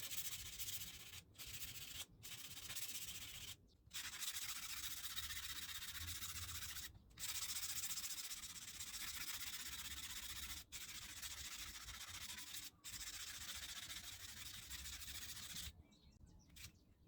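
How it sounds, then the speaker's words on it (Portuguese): Hand sanding block loaded with 220-grit sandpaper rubbing back and forth on a steel chisel, a steady dry scraping with brief pauses between strokes, close and continuous with no voices. "usando um taco manual com uma lixa 220 também, eu fiz a remoção de todas as rebarbas"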